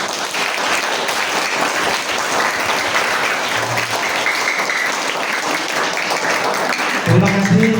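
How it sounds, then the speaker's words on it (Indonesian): Crowd applause for the committee at a school student council event, steady dense clapping throughout, with a brief voice coming in near the end. "Saya minta aplaus tepuk tangannya dulu untuk panitia semuanya"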